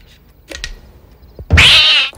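A cat in the horror film House III gives one loud, drawn-out meow close up, after a few faint soft thumps in a quiet room.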